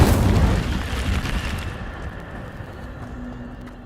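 The Incendio fire spell bursts out in Hogwarts Legacy, a loud whooshing blast at the start that fades into a lingering, dying rumble over several seconds.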